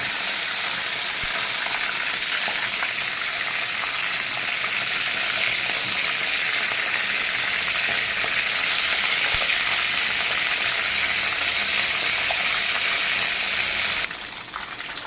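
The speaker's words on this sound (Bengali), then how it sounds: "একদম কোনো রকম হালকা করে ভেজে নিচ্ছি।" Chicken pieces frying lightly in oil in a home kitchen pan, a steady loud sizzle with crackling and occasional stirring, continuous and close throughout, easing slightly at the very end.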